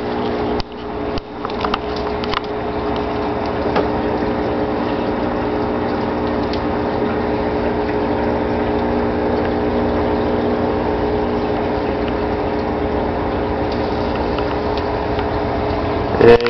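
DIY aquarium powerhead filter pump drawing water, a steady mechanical hum that runs continuously, with a few clunks near the start.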